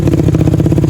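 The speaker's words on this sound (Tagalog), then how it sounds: "yung mga maingay motor diya, mahiya naman kayo" A loud, noisy scooter-style motorcycle like a Yamaha Aerox passes close by on a street, its pulsing mid-range engine chug filling the short moment.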